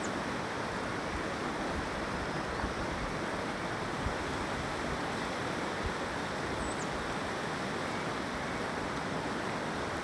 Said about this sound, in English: I got a river